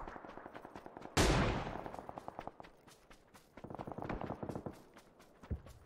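Automatic gunfire in a PUBG match: a loud close shot followed by rapid sustained bursts with a steady clattering rhythm, then a second run of fire and a final lone shot.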